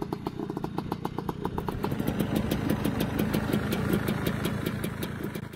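A classic Lambretta scooter's small engine idles steadily nearby with a fast, even putter and a faint metallic clatter, with no voices over it.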